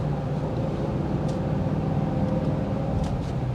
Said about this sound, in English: I love hearing that exhaust note